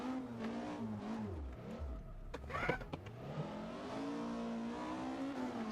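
A rally car engine in Richard Burns Rally revs high, drops briefly for a gear change or corner, then climbs again under steady acceleration, with no one speaking.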